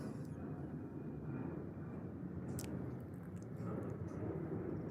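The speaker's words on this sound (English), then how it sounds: "I can't talk with that plane going" An airplane flies overhead as a broad, heavy low rumble that stays loud and steady throughout, with brief faint clicks above it and no speech.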